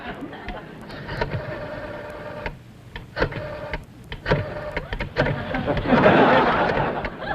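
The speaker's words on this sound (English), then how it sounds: "You have to stick your finger in them holes and spin her a while." A rotary telephone is dialed in an old sitcom scene, giving a run of uneven clicking and whirring bursts of the dial spinning and returning, with a laugh track swelling near the end.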